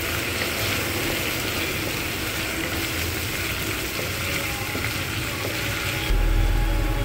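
Cleaned prawns fry in a pan for a vegetable and prawn curry, a continuous close sizzle that keeps a steady level, ending in a low thump.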